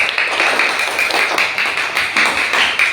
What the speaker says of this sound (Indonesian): tepuk tangan dulu untuk kelompok 2 yang telah mempresentasikan hasil tersebut